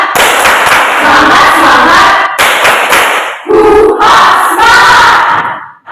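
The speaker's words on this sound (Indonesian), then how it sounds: "Tepuk semangat." A classroom of schoolchildren performs a loud rhythmic spirit clap, bursts of group clapping and shouted chanting in short phrases with brief pauses between them, close and energetic.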